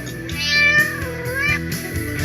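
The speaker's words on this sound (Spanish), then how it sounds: "o un gato" A cat meows, one drawn-out rising and falling cry followed by a shorter one, close and clear over soft background music, with no speech.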